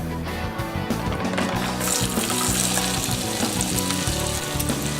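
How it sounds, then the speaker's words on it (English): Chopped carrots, green onions and celery sauté in melted butter, giving a steady, close sizzle with crackling and occasional stirring clicks throughout. "we'll want to saute these till they're soft"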